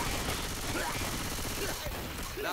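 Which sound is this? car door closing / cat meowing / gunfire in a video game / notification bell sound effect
gunfire in a video game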